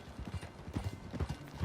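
Horse hooves clip-clop in Red Dead Redemption 2, a brisk, uneven rhythm of a dozen or so hollow knocks, moderately close and fairly quiet.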